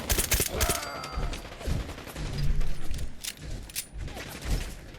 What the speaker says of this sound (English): We're in a firefight, y'all.